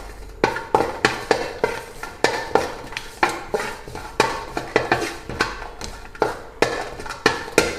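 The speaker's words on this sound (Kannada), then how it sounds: "ಇದು ಅಷ್ಟೇ ಸ್ವಲ್ಪ ಘಮ ಬರೋವರೆಗೂ ಹುರ್ಕೊಳ್ಬೇಕು." Spices dry-roasting in a pan for homemade South Indian sambar powder, a utensil scraping and stirring in a steady rhythm of about two strokes per second, close and moderately loud with no talk.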